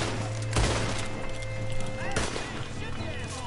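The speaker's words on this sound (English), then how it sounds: "Stop shooting me!" Gunfire in the Red Dead Redemption 2 video game, with sharp shots and booming impacts over a busy mix of game sound, hoofbeats and music, while a person talks over it.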